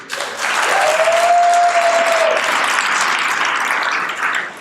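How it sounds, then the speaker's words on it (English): A comedy club audience breaks into sustained applause after a stand-up line about quitting drinking, swelling quickly into loud, dense clapping with a brief whoop, then tapering off near the end. "Don't clap too hard."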